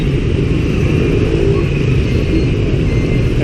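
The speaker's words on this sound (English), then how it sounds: "Yeah, that's pretty brutal traffic here right now." Heavy rush-hour road traffic in Saigon, Vietnam, with a constant loud rumble of car and motorcycle engines close by and no break in the wash of noise.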